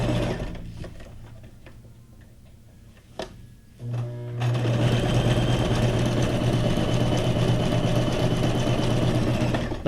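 A sewing machine runs continuously at steady speed with a dense mechanical whir and rapid stitch rhythm, close and loud, switching between straight and zigzag stitches on junk journal tags and ephemera, after a few quieter clicks and handling.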